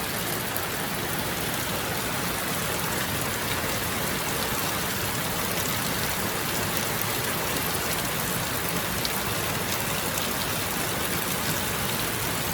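Steady rain falls for the whole stretch, a dense, even hiss with no pauses or voices, close and continuous like a downpour drumming on surfaces outside.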